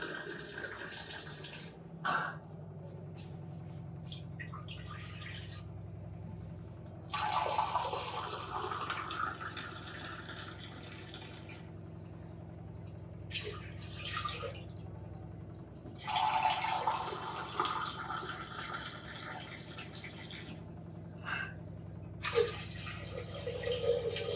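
Water runs and splashes into a pot in two main bursts, about three cups for making mutton soup, with quieter trickling in between and a low kitchen hum underneath; no one speaks.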